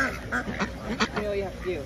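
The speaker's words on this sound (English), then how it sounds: "Just be warned, the ducks are serious here." A few close duck quacks sound in quick succession at a barn attraction in Smithville, Ohio, with faint voices murmuring underneath.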